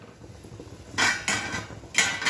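A few sharp metallic clanks of pots and lids being handled, loud and close, with quiet room noise between them.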